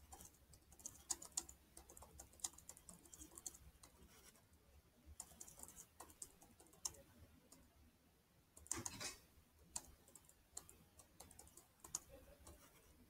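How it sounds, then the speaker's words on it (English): Rapid, uneven typing on a computer keyboard, with bursts of soft key clicks and brief pauses, close and fairly quiet. "My typing is terrible today."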